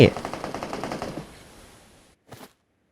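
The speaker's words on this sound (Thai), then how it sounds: "เฮ้ยเฮ้ย มีเสียงปืนข้างหน้าครับ" Burst of rapid automatic gunfire in the PUBG Mobile video game, Frozen Kingdom mode, a quick rattling volley that decays into a tail, followed by a brief second shot a moment later.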